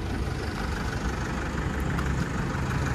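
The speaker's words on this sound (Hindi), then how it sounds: "तो हम सबसे पहले करते हैं इसको इंजन को ऑन।" A used Toyota car's engine idles close by after starting, a continuous low rumbling drone with a steady mechanical texture and no voices.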